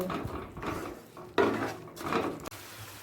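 Potato and cauliflower masala with Kashmiri red chilli powder and sugar being sautéed in a pan, with repeated utensil scrapes and clinks over a soft sizzle, close and moderately loud.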